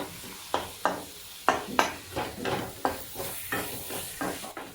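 Hot green chillies and tomato fry in oil in a pan, a close sizzle broken by a rhythmic series of about a dozen spatula scrapes and stirs, with no voices.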